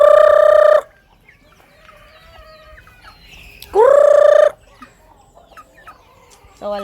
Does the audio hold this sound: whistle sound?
no